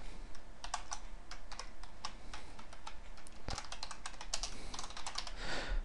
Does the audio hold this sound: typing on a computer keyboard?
yes